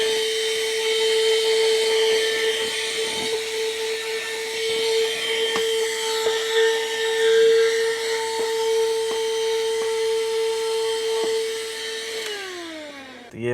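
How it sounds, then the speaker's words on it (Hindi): A Tusa handheld vacuum cleaner runs steadily inside a car, picking up tissue paper and dirt from the interior with a high motor whine that holds for about twelve seconds, then spins down at the end. "इस पर्टिकुलर वैक्यूम क्लीनर को, ये टूसा का है आइटम"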